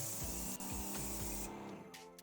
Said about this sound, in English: This is my first time spraying a fence like this